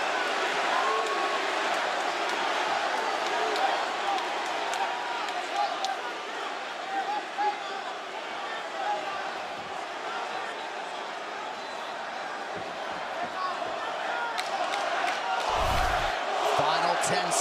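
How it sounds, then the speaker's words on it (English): Dense crowd noise from a UFC fight arena as the crowd gets behind Jorge Masvidal against Nate Diaz, a continuous roar throughout with occasional sharp thuds. "Now the crowd get behind Masvidal."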